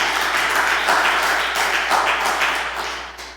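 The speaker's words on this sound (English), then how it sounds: "Go ahead and clap that" A church congregation applauds on Easter Sunday, a dense, steady wash of many hands clapping together that holds fairly even and near throughout, with no talk over it.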